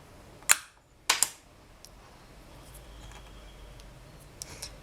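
A blade slices pieces off a polymer clay cane: two crisp, close taps near the start, then quiet handling with faint small clicks.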